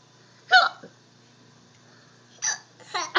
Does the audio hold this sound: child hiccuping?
yes